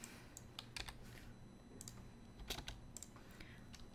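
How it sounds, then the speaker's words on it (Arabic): Keys clatter on a computer keyboard in quiet, irregular bursts of clicks with short pauses between them, close but faint, no one speaking. "نضغط اي ار على الكيبورد"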